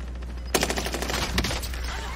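Rapid automatic gunfire in the shooter game Warzone, a sudden close burst of quick repeated shots with a second loud crack near the end, over steady background hum.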